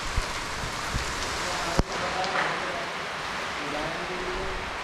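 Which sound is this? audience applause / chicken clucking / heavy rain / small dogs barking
heavy rain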